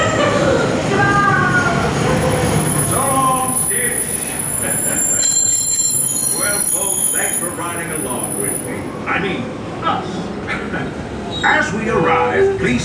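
A Walt Disney World Railroad train rumbles along the rails with a high metallic wheel squeal ringing out, while an announcement voice talks over the steady clatter.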